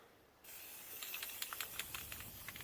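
A spray can of primer paint hisses in a steady, close burst with a few short spurts and sputters, used while prepping a differential and cover for cleaning and painting.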